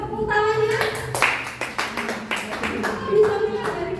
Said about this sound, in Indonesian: Ya, beri tepuk tangannya.